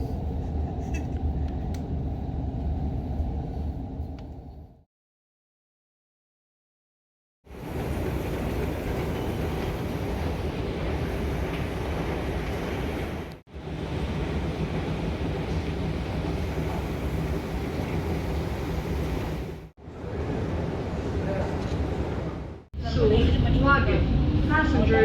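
Rumbling interior noise of a moving Doha Metro train, continuous and steady, broken by a few seconds of near silence before the rolling hum returns.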